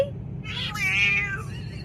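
A scruffy, thin stray cat gives a single drawn-out meow, close and clear, rising and then falling over about a second against a low background hum.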